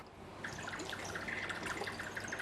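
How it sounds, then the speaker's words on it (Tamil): Water trickles and splashes softly as it is poured over lentils in a pressure cooker, with a faint, continuous liquid gurgle and no talk. "பருப்பு மூழ்கிற அளவுக்கு நம்ம தண்ணி ஊற்றிட்டோம்"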